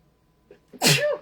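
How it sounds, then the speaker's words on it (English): A single loud sneeze, preceded by a short sharp intake of breath, close up in an otherwise quiet room. "I had a sneeze that just was not going to go away"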